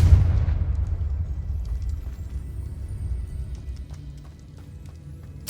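A Confringo spell explosion in the Hogwarts Legacy video game opens with a loud low boom, then a long rumbling decay with faint scattered debris clatter and a sharp final thump.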